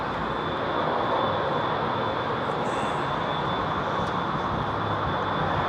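A jet departing a Heathrow Airport runway roars with a loud, steady, broadband engine rumble and a sustained high whine, close and unbroken throughout, with no voices over it.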